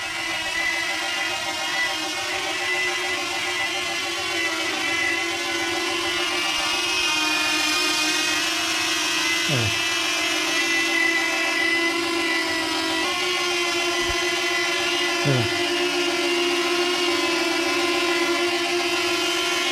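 A DJI Flip drone hovers and flies indoors, its propellers giving a loud, continuous high-pitched whir that holds steady throughout, with a few faint brief thumps in the background and no talking.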